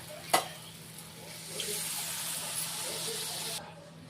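Water goes into a pan of fried mustard-poppy masala, and a sharp splash gives way to a broad, steady hiss of sizzling and steam. The sound stays close and rises for a few seconds before dropping away.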